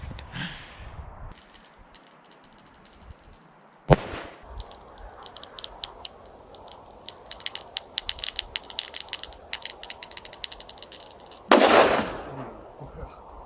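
A homemade bottle bomb bursts with a sudden loud bang, followed by crackling and fizzing, then a second sharp blast near the end over steady outdoor hiss.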